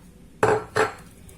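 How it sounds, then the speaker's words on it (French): A utensil clinks sharply against a pan twice in quick succession while chocolate is stirred into hot cream, two close, bright metallic taps with quiet in between. "Et je vais touiller jusqu'à ce que tout mon chocolat soit fondu."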